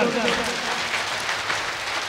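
An audience at a Hindu religious discourse applauds vigorously, giving a dense, continuous wash of clapping that lasts throughout.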